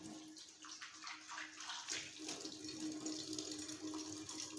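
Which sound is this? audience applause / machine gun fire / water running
water running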